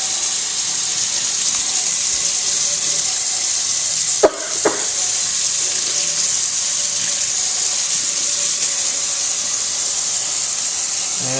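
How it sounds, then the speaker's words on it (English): Water runs steadily from a sink tap as items are rinsed under it, a continuous close hiss with a couple of brief knocks partway through. "take it over to the sink, and basically you lift these things up, and you rinse them off with water"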